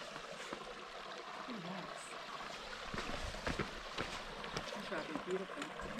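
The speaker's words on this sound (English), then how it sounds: "Here's the creek." Steady rushing hiss of a clear creek flowing nearby on Bear Canyon Trail near Tucson, Arizona, with voices talking over it and occasional light knocks.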